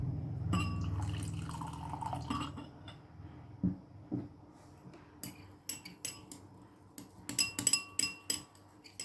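Hot water poured into a glass during a simple mixing experiment, a steady liquid rush for a few seconds followed by scattered clinks and drips of glass and utensils, close and moderately loud with no talking.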